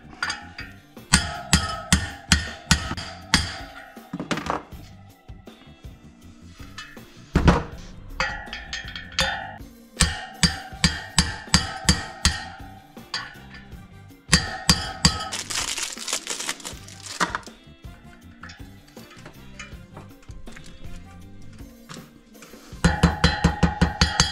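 Metal bearings, chilled in a freezer, being hammered into a GasGas 125 supermoto during its restoration: repeated bursts of sharp, ringing metallic blows in quick rhythmic series, with pauses and a scraping stretch between them.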